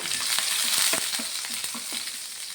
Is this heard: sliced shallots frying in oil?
yes